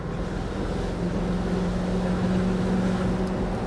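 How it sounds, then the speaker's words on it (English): BMW V8 SUV engine droning steadily from inside the cabin while driving with the windows down, a continuous low rumble with constant wind and road noise, no pauses. "Such a nice noise, that BMW V8."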